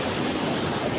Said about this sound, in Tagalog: Oh, ang lakas siya ng alon.